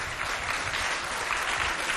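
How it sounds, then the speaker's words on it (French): An audience at a school event applauds the pupils, steady dense clapping throughout, loud and close with no voices over it. "Applaudissez pour vous."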